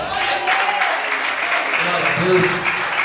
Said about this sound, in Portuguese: As palmas bem fortes.